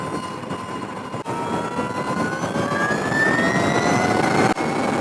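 An Energica EGO+ RS electric superbike ridden fast on a bumpy road gives off a steady, close electric motor whine that climbs in pitch over a loud, continuous rush of wind.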